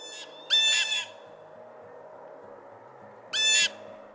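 A blue jay gives harsh, squawking calls, a short burst followed by a longer one and another about three seconds later, loud and close over a quiet outdoor background.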